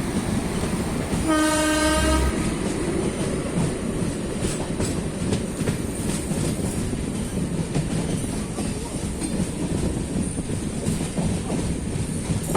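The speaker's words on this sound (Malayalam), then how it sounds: "നമ്മുടെ ട്രെയിൻ ഒരു ട്രാക്കിന് മറ്റൊരു ട്രാക്കിലേക്ക് കയറുന്നത്" A train rumbles steadily along the rails with clattering wheel noise as it crosses track switches, and a horn sounds briefly near the start.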